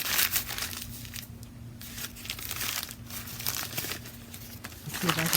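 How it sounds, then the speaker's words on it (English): A sheet of newspaper crumpled by hand, giving continuous crinkling and crackling paper noise over a low steady hum. "I'm going to crumple it up."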